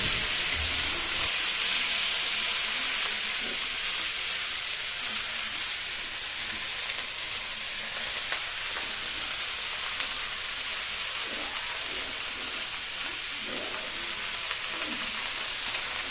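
Shredded cabbage sizzles and fries steadily in a pan for a Bengali cabbage ghonto, a continuous broadband hiss with faint stirring scrapes, no talking.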